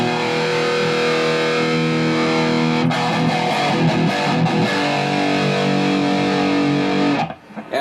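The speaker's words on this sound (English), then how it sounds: "And the third channel really lays on with distortion." An EVH 5150 III guitar amp on its third channel, heavily distorted and sustained, with thick harmonic-rich chords ringing loud and steady for about seven seconds before cutting off abruptly near the end.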